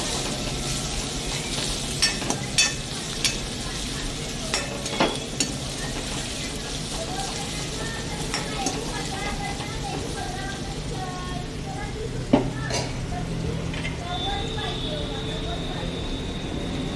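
Chopped onions sizzle and fry in a pan while rava dosa is being prepared, a steady crackling hiss with a few clinks of a spoon or utensil against the pan.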